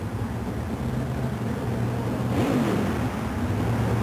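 Nitrous oxide-injected Jeep CJ mud racer, Greg Haskins' Vermont-based Risky Business, revving at a mud racing event: a steady loud engine drone with a brief rising swell near the middle, no talk.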